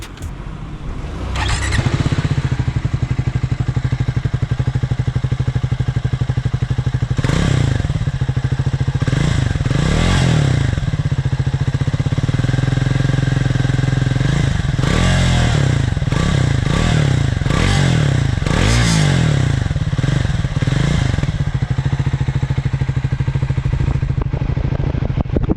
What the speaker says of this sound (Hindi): Let's listen to the exhaust sound of this bike.